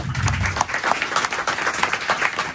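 An audience at an election campaign kickoff meeting claps in a dense, continuous burst of applause. It is moderately loud and lasts only a couple of seconds.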